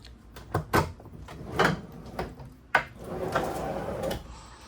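A storage drawer aboard a 2024 Island Packet 42 MS yacht slides and thuds several times, producing irregular knocks and rolling sounds nearby in a quiet cabin.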